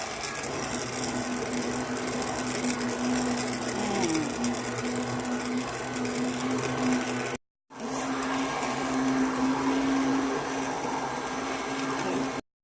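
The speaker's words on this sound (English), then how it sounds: "put the lid, blend all these guys" A kitchen blender whirs steadily, blending broccoli soup with heavy cream, a constant motor drone that cuts out briefly and starts again, loud and close, with no talking.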